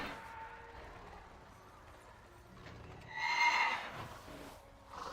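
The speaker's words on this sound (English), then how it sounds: "this was the only undead horse you could get as Alliance in Classic" A Death Charger, the undead horse mount in World of Warcraft, lets out a single shrill whinny in the middle of the clip, rising clearly above faint game background noise before the sound fades back down.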